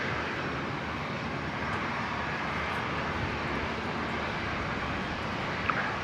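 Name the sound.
Rex aircraft engine at Brisbane airport runway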